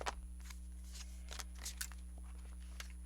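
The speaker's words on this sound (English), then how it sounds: "I want to pick an Akashic card today." An Akashic oracle deck being shuffled gives a few quick riffling bursts of card noise over a low steady hum, then a card is picked with soft flicks.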